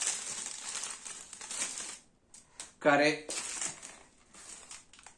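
A small plastic bag from an office chair box crinkles sharply for about a second while being opened, a brief close rustle between stretches of quiet room noise.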